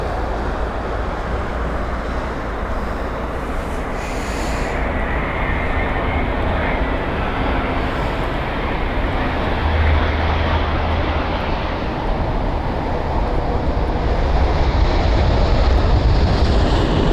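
An Airbus A350-900 airliner arriving at London Heathrow gives a steady, loud, broad roar for the whole stretch, swelling slightly toward the end, with wind rumbling across the microphone.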